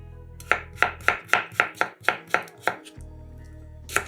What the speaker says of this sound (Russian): 2 средних огурца нарезаем четверть кружочками